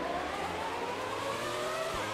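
1995 Benetton Formula 1 car engine in the F1 2020 racing video game, a continuous high-pitched screaming rev that holds steady and climbs slightly, loud and with no talk.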